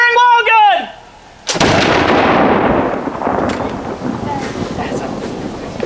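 A historic black-powder wall gun fires one loud, booming report at a fort's Christmas garrison event, after a brief shouted command, then rolls off in a long decaying echo and rumble.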